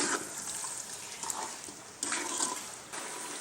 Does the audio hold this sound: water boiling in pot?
yes